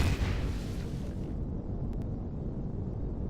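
A plasma cannon in the video game Empyrion Galactic Survival fires with a heavy booming blast up close, then trails into a low sustained roar as the high hiss fades away.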